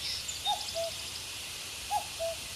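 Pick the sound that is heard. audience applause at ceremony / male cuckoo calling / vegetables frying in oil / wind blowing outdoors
male cuckoo calling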